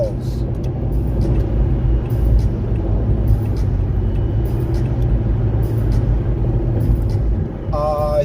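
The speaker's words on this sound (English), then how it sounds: "I think the truck to my left behind me wants to get over" A truck drives alongside a car on the road, a continuous loud low engine and tyre rumble heard from inside the vehicle, with a brief tonal sound near the end.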